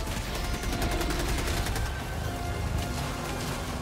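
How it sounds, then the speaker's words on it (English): Continuous gunfire and explosive blasts from a recoilless rifle and other weapons fighting Terminid bugs in Helldivers 2, a dense, loud barrage of overlapping shots with no pauses across the whole stretch. "shooting them in the face with a recoilless rifle will take them down"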